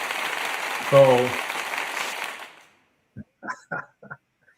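An applause sound effect: a loud burst of clapping and cheering that fades out over a couple of seconds, followed by a brief spoken word.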